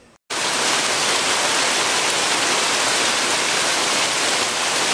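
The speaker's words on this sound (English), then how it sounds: "Our afternoon rain was a little bit late getting here, but it's here now." Steady afternoon rain pours down as a dense, loud, unbroken hiss that starts abruptly and holds evenly to the end, with no voices.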